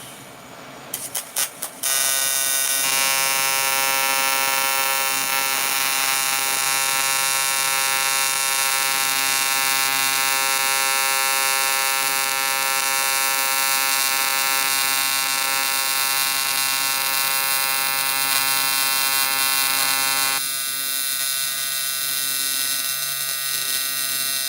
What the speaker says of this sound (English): Not really the best weld ever done, but she's a weld nonetheless.